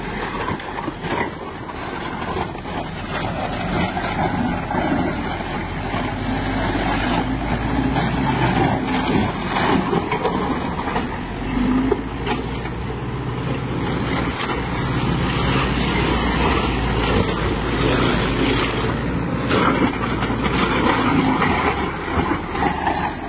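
A Bull mulcher with a heavy-duty gearbox runs at full power, shredding wood, plants and vines, giving a loud, steady mechanical roar that stays constant and close throughout.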